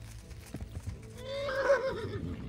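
A horse in the video game Kingdom Come: Deliverance whinnies once, a rising and falling neigh after a few soft hoof clops, fairly close and alone.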